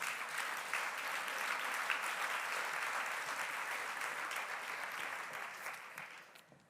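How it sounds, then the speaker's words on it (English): Sustained audience applause for panelists joining the podium at a closing plenary conference session, a steady wash of many hands clapping that slowly fades toward the end. "give them a warm round of applause,"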